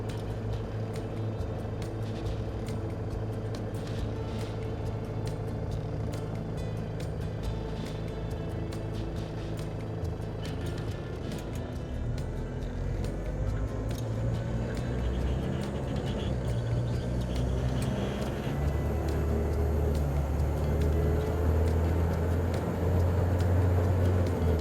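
A 1964-era Dodge Power Wagon truck, turbocharged and making about 20 pounds of boost, drones steadily on a test drive, with a low engine rumble and road noise holding throughout and building slightly near the end.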